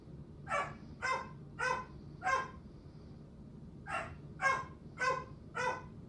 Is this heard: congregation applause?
no